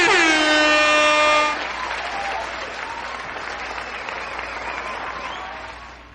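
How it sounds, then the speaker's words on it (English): A show audience applauds as a guest is welcomed, a sustained wash of clapping that follows a loud horn-like tone at the start and gradually fades, heard alone without talk. "Everybody give her a round of applause."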